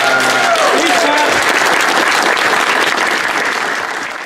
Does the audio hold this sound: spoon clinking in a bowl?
no